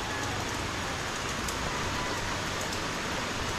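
Steady rain falls during Typhoon Crising in Calaca, a dense even hiss of drops on surfaces with no talk, holding constant throughout.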